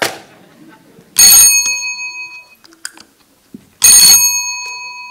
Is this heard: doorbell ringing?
yes